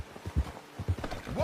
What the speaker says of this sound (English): Get a hold of that horse, Arthur.